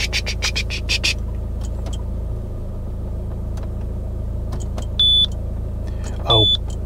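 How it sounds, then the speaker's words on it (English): A Citroen C4 Picasso engine runs at idle with a low steady rumble, a faint rhythmic chuffing from a faulty injector under it, and two short electronic beeps near the end. "now the engine's on, I can hear one of the injectors chuffing"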